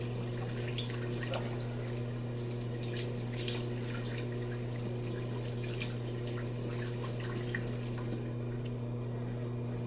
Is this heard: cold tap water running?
yes